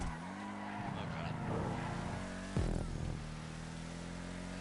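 A car in GTA Online races and skids, engine droning with squealing tires and a sharp jolt midway, loud and close, with a voice talking over it.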